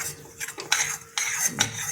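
Almond sheera roasts in a pan while a metal spoon stirs and scrapes against it, with several short clinking, scraping strokes close up and no talk.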